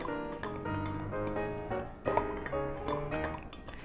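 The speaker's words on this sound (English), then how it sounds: "You want to stir it really well." Aloe vera juice being stirred briskly in a container, with rapid clinking and tapping of a utensil against the sides and a small ringing knock near the middle.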